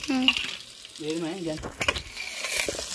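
Ginger garlic paste frying in oil while it is stirred, cooked in a pan over a wood-fired stove for a fish curry; a steady, moderate sizzle with scraping stirs and a voice talking over part of it.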